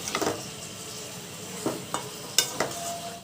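Chicken roast with a yogurt marinade sizzles softly in a pan while a spatula stirs it, giving sharp scrapes and clinks against the metal over a low, steady frying hiss.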